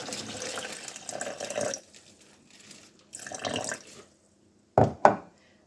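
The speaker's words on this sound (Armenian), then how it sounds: "մի քիչ էլ ջուր կավելացնեմ" Water pours in two short streams into a mixture of ginger and ground black pepper, then two sharp clinks of a container end the sequence, all close and without talk.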